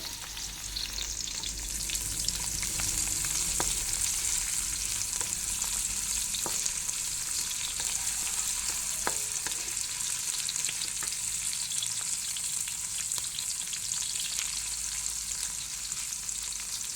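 Bicol Express frying in a pan at a camping site: a steady, close sizzle runs for the whole stretch, with occasional light clicks and scrapes from stirring.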